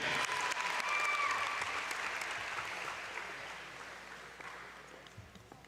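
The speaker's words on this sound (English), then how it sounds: "Please give them a round of applause." A crowd at a Cabot High School girls' basketball game against Jonesboro gives a round of applause, loud at first and then gradually fading over several seconds.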